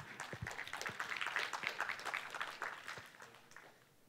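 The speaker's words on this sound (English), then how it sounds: "thank you for applauding my copy and pasting abilities" Conference audience applauding at a developer talk, a scattered patter of many hands clapping at moderate distance, swelling and then thinning out toward the end.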